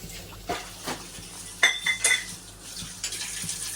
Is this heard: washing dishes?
yes